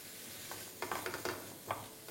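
Ground coriander and Kashmiri chilli powder fry softly in a pan on a low flame for chicken kofta curry, a quiet sizzle broken by several brief scraping stirs close by.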